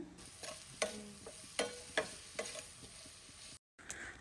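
Sliced onion with salt sautés quietly in coconut oil, a faint sizzle under a few sharp spatula taps against the pan at uneven intervals, with a brief silent gap near the end.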